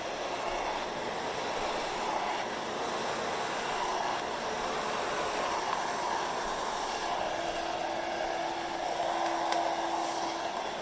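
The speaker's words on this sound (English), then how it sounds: "when I'm blow drying, I'm trying to keep that blow dryer pointed away from my client's head." A handheld blow dryer drying hair gives off a steady, fairly soft airy whoosh with a faint motor whine, continuous and without talk.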